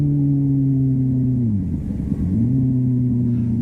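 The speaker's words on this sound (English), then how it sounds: "he's revving the motor, but the clutch release is so slow he loses all the revs from his throttle blip" Sportbike engine during a sloppy downshift: a steady engine note drops away, a short throttle blip rises, then the tone slowly climbs back as the clutch is eased out.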